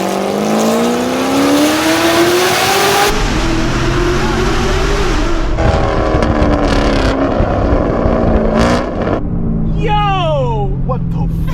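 A 600HP Camaro SS with a loud exhaust revs hard on a Miami street, its engine note climbing and falling in long aggressive sweeps. The sound is close and continuous, and voices can be heard around it.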